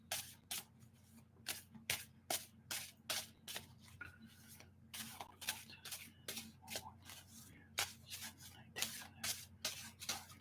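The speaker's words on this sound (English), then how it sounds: "I shuffled these cards like a lot just now" A deck of tarot cards being shuffled by hand, a steady run of crisp riffling bursts repeating every half second or so, close and clear over a low constant hum.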